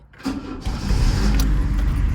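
A Chevrolet Monza's engine starts with a brief crank, then catches into a loud, rumbling idle that holds steady, recorded up close with no one speaking.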